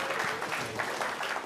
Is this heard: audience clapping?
yes